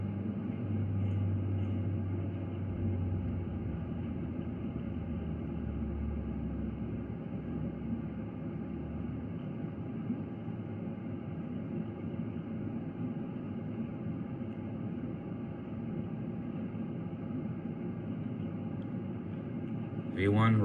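Boeing 737 engines spooling to takeoff thrust on runway 24 left at LAX in the PMDG flight simulator, a steady loud droning roar that holds without a break.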